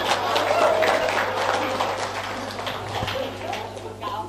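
A crowd of inmates at a sermon in the Gresik detention house claps, the dense applause rising early and then thinning into a softer, scattered patter, with speech mixed in throughout.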